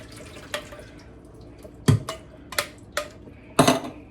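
Canned beans rinsed in a kitchen sink under running water, faint flow punctuated by several sharp clinks and splashes of the can and pot, close and without talk.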